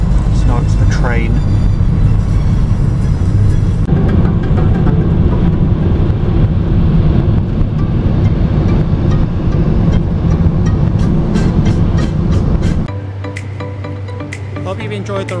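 A train in Russia near Yaroslavl rumbles steadily with a loud, close rolling drone and rattling that runs on and then drops to a lower, steadier hum, with talk heard over the noise.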